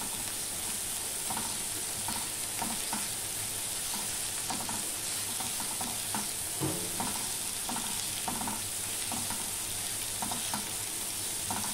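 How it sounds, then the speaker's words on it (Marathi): Onion frying in hot oil with garam masala while being stirred for an eggplant keema bharta, a steady close sizzle with soft repeated scraping strokes throughout. "कांदा आपल्याला चांगल्यापैकी परतून घ्यायचा आहे।"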